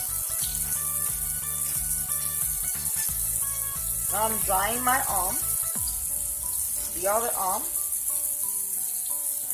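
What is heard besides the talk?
water running from a sink tap while drying hands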